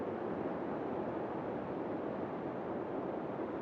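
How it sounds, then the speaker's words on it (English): Steady broadband rush of a waterfall in The Long Dark video game, constant and even, moderately soft as if some distance away, with no voices. "I hear the waterfall off over in that direction."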